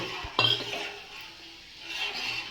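A spoon stirs cardamom powder into moong dal payasam in a metal pot, one sharp clink of utensil against the vessel followed by soft scraping and light stirring.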